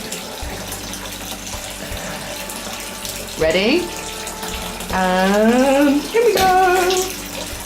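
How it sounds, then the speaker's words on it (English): Hot water gushes from a tap into a bathtub, a steady close splashing that swells louder in bursts, while a person speaks over it with rising, excited exclamations. "Let's put some hot water on."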